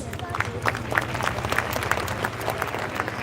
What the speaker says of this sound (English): A big round of applause for our performers.